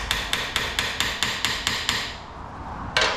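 A hammer strikes the stuck valve cover screws of a Kawasaki KFX400 in about nine quick, evenly spaced, sharp metallic blows close by, then a short pause and one more hit, with no talking.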